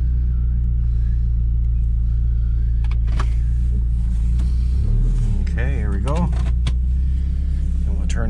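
A car drives down toward a garage before a Newfoundland winter storm, its steady engine rumble and road noise close and continuous, with someone talking over it.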